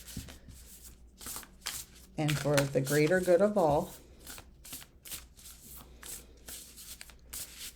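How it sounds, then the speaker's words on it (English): A deck of cards is riffle-shuffled with a quick fluttering burst, while a person speaks softly before and after. "that was a perfect shuffle"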